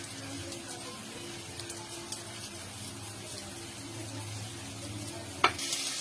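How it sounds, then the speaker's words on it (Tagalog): Carrots sautéing with garlic and onion in a pan, a low steady sizzle with faint stirring and a single sharp clink near the end. "maggisa ng bawang at sibuyas. Isunod ang carrots."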